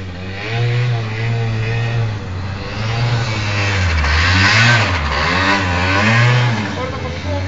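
A mopoauto microcar engine revs hard as its wheels spin. A loud, close, buzzing engine note swings up and down continuously throughout.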